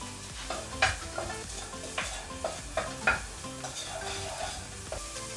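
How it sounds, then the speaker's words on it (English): Garlic and onion fry in a pan with a steady sizzle, broken by several stirring scrapes and light clicks of a utensil at irregular intervals, close by and with no voices. "We are going to fry the garlic and the onion"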